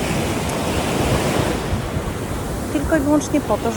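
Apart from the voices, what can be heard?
ocean waves on a Dominican Republic beach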